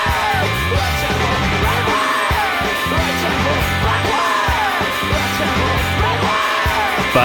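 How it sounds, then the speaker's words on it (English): Raw screamed vocals ride over dense, loud indie rock instrumentation with driving drums and guitars, the yelling sustained across the whole passage. "The screaming element."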